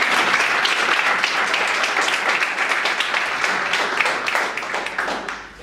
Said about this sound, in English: How about another warm round of applause?